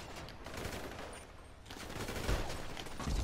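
Bursts of rapid gunfire rattle through a GTA Online deathmatch, dense and fairly loud volleys with a brief lull in the middle before shooting picks up again.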